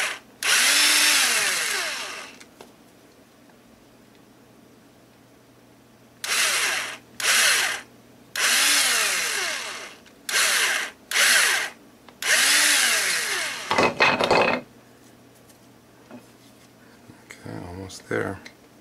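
Power drill reaming out holes in the palm part of an Osprey/Gamma Raptor, running in several loud bursts that spin up and wind down, with pauses between and a short clattering handling sound near the end.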